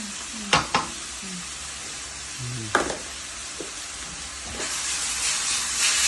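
A spoon stirs spaghetti sauce with carrots in a hot pan, with a few sharp scraping knocks against the pan over a continuous sizzle and hiss that rises toward the end.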